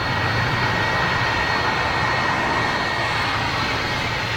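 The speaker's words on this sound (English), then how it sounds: "737 just gone out" A Boeing 737 jet roars steadily as it departs Gatwick Airport, a loud, continuous broadband rumble and whine that holds at full strength throughout with no talking.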